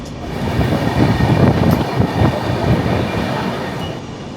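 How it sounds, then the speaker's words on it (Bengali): A passenger train heading toward Ghatshila rolls along with a loud, sustained rumble and rhythmic wheel clatter, heard from inside a carriage, swelling through the middle and easing near the end, with no talking. "কারণ ঘাটশিলার দিকে যাচ্ছে ট্রেনটা"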